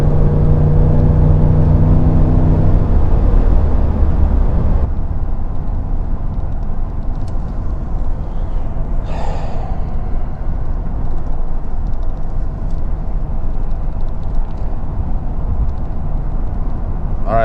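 Ford F150 truck engine pulling uphill on a nearly empty tank, a loud steady drone that eases slightly partway through, with road noise and a brief whoosh of passing traffic.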